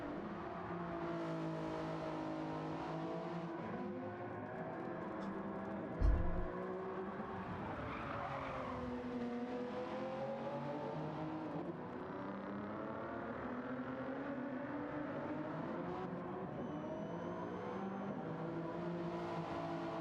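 A Gr3 race car engine in Gran Turismo 7 at Circuit de Barcelona-Catalunya, holding a steady, high whine through a flying lap with a brief thump partway. It runs loud and continuous throughout, with no voices over it.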